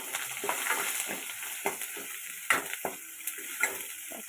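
Pepper and garlic fry in a pan for a banana-flower dish, giving a continuous crackling sizzle with irregular stirring scrapes and a few sharper clicks of a utensil.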